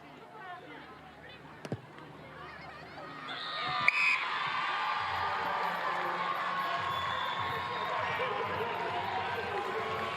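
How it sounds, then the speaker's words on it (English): Crowd at the 2023 Farah Palmer Cup rugby final, Manawatu Cyclones against Northland Kauri, swells into a sustained cheering roar after a couple of sharp thumps and then holds steady and loud. "Great crowd here, getting in behind their Manawatu Cyclones team."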